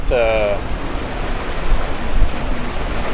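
Catamaran under sail on Chesapeake Bay, a steady rush of wind and water washing along the hull, loud and close, with a brief voice at the start.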